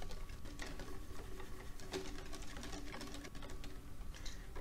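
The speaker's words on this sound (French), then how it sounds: "Mélangez délicatement" Crêpe batter made with milk, vanilla paste and orange blossom water is gently stirred in a bowl, giving a soft, quiet, continuous rhythmic clicking and sloshing with no talk.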